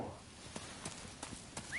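Horse hooves in the Dynasty Warriors video game: faint, steady clip-clop hoofbeats about every third of a second, quiet and somewhat distant over a low background hiss, with no talking.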